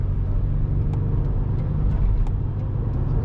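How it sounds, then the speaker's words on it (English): A car engine holds a steady, loud rumbling idle after the throttle is released, the revs hanging rather than dropping, with faint periodic ticks over the drone. "We're going foot off the gas, and it just kind of hangs there"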